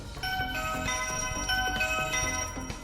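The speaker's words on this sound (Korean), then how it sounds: "초인종 누르고요." A doorbell on an apartment intercom unit is pressed, producing a bright, steady electronic chime melody with several repeating tonal notes, played close and clear with no talk.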